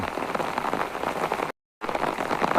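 Rain falling outside a window in Dhaka, a dense continuous patter of drops on surfaces, steady and fairly loud, broken by a short silent gap.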